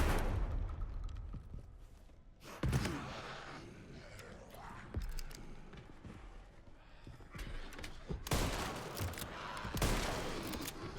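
Gunfire in the Resident Evil Requiem video game as targets are shot down: a few loud, sharp broadband blasts spaced seconds apart, with a dense cluster near the end, over quieter game ambience.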